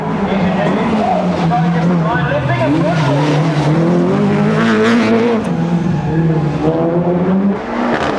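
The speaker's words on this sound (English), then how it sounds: "Gottliker is now up to third in his latest specification, Group A Cosworth. And boy, does he go through the gears." A Group A Cosworth rally car on the 1996 Manx International Rally accelerating hard, its engine note rising and dropping through the gear changes, loud and continuous, with a commentator talking over it.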